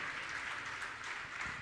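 An audience applauds at a religious gathering honoring local devotees, steady dense clapping heard at a distance, fairly faint and continuous with no break.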